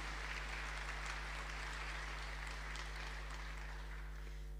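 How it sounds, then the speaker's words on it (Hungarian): Applause from guests at an environmental-themed gala ball, a soft, continuous wash of clapping heard at a distance over a steady low hum. "a taps teljesen jogos"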